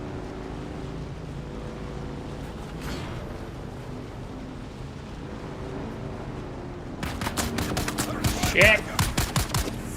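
Gunfire in Dune Awakening breaks out in the final seconds as a quick burst of sharp, fairly close shots over a low vehicle drone, with a man briefly swearing.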